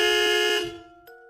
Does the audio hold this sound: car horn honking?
yes